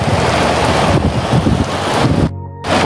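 Floodwater rushes into a flooding building as a loud, broadband roaring wash, surging continuously, then briefly broken by a short tonal interruption before the rush resumes.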